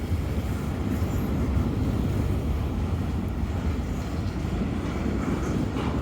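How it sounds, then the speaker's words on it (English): A train rolling past nearby, a steady low rumble of railcars that holds at an even loudness throughout with no break. "Let's watch the train go by."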